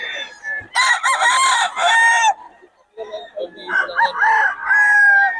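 A bullstag rooster crows loudly and close at a gamefowl market in Bocaue, one full crow, a brief gap, then a second longer call with ragged clucks mixed in.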